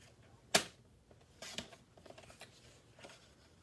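Card paper is cut for a handmade card, with a sharp close snip followed by a few quieter cutting and rustling sounds in a quiet room; no talking.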